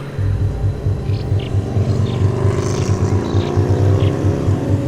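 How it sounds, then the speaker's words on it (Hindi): A loud engine drones and rumbles steadily nearby, like a motorbike revving as it pulls past, with a few brief higher whines above it. "वही बाइक मुझे ओवरटेक करके आगे जाने लगी"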